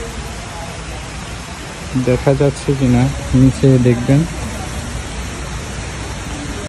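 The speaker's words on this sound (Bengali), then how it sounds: "দেখেন ভালোই বৃষ্টি হইতেছে, ভালো মাপের বৃষ্টি হইতেছে।" Heavy rain pours at the National Botanical Garden, a loud, steady broadband hiss of downpour throughout, with someone speaking briefly over it in the middle.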